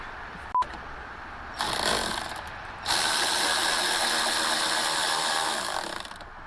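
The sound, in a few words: ratchet tightening dash bolts on a Mustang GT350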